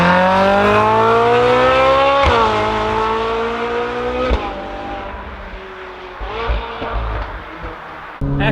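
Ferrari 458 Spider engine accelerating, loud and close, its high-revving wail climbing through the gears with sharp pitch drops at each shift.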